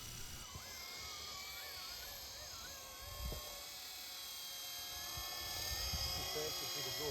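Small radio-controlled helicopter flying forward at full speed in high rate, a steady high-pitched rotor and motor whine with shifting pitch as it passes, moderately distant and continuous.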